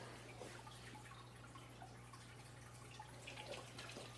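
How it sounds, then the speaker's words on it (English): Water poured into a plastic bottle rocket before launch: a soft, continuous trickle with a few drips, fairly faint over a steady low hum. "I'm pouring in 1 liter of water, 500 milliliters of water into it"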